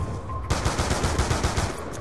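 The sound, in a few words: four-round burst gunfire in Black Ops 2 video game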